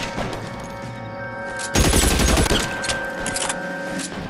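A dense burst of gunfire from the video game LA Noire erupts loudly partway through, rolling on as a sustained volley over a steady musical background with no talk.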